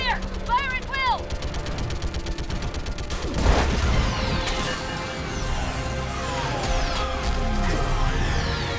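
Heavy sustained gunfire in a Mass Effect 3 cutscene, with a dense fusillade of shots and explosive cracks over a battle backdrop. Loud, close and continuous, with shouted voices in the mix.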